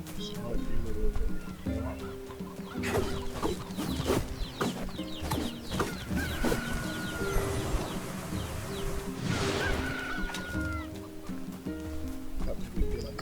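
Chickens cluck and squawk in the video game Nier Replicant, scattered bursts over in-game ambience and effects, with a voice speaking at times.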